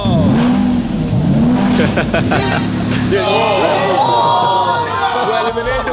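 A Lamborghini's engine revs and accelerates loudly over a crowd, with rising and falling engine tones throughout and people talking underneath.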